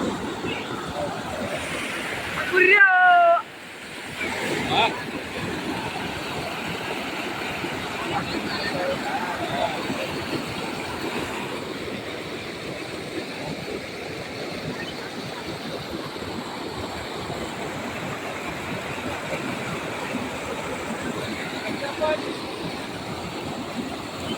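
Floodwater rushes in a steady, loud roar during a cloudburst-like heavy rain in Beed city, filling the scene continuously while a voice briefly speaks near the start.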